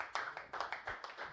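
Church congregation applauding, a short run of about eight or nine rhythmic claps, fairly quiet and somewhat distant.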